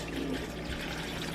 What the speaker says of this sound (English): And then we have to add the 4 cups of purified water.